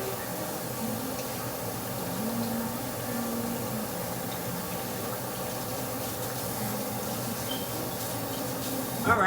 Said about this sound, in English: Still gonna rinse my hands.